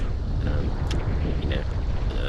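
A sailboat reaching down the Hawkesbury River in a fresh southerly wind, with a steady roar of wind buffeting the microphone and rushing water beneath it.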